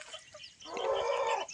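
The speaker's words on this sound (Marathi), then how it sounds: "अशा गावठी कोंबड्या आहेत." Native desi hens on a farm cluck close by, a few soft calls first, then a louder, sustained cackle that rises and holds before fading.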